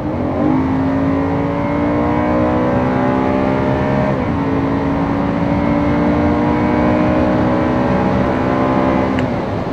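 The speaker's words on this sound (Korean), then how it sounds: "어쨌든 아까 이 차의 그 엔진음이 잘 전달됐으면 좋겠네요" BMW E92 M3 with a naturally aspirated V8 and individual throttle bodies, revving hard under acceleration: a loud, close engine note climbs steadily, dips briefly at a gear change, then climbs again, with no talking.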